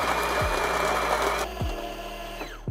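An electric grinder grinds about 12 ounces of Gesha coffee beans, a loud close whirring buzz with rattling beans that drops in pitch partway through, with a few low thumps.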